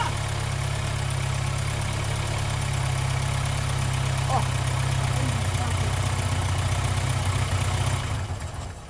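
An Austin Maestro barn-find engine idles roughly, with a steady low rumble and an uneven pulse that runs continuously at close range before fading slightly at the end.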